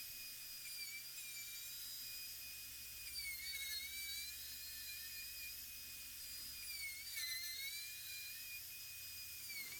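A router cuts Osage orange wood for a console table, giving a loud, sustained high-pitched whine that shifts pitch slightly as the bit bites into the workpiece.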